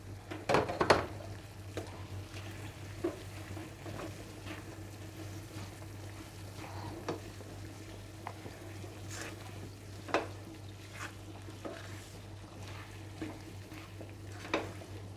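Spices and green chillies frying in a pan for a chicken and vegetable samosa filling, a quiet steady sizzle under a low hum, punctuated by scattered clinks and scrapes of a utensil against the pan.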